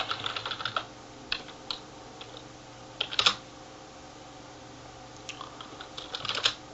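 Computer keyboard typing a room name into a game building tool, quiet close clicks in short irregular bursts with pauses between them.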